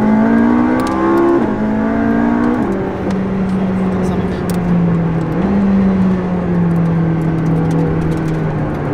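A McLaren 675LT accelerates hard on the road from inside the cabin, its engine note climbing through gears with audible shifts, loud and close, while someone speaks briefly over it.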